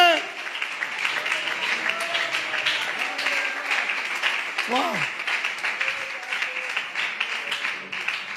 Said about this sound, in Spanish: Alguien aplauda el amor de Dios.